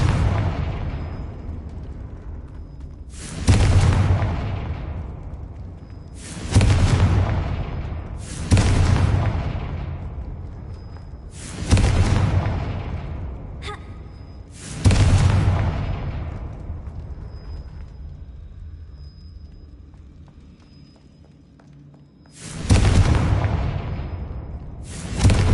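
Repeated Confringo explosion spell blasts in a Harry Potter video game, six heavy booming detonations spaced a few seconds apart, each loud and close with a long fading rumble, nobody talking.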